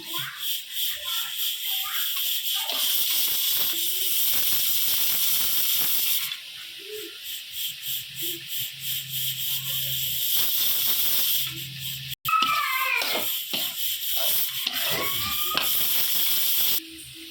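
Egg frying in a pan with blood poriyal, a steady broadband sizzle and hiss that runs through most of the clip, with scraping and stirring noises later and some background voices.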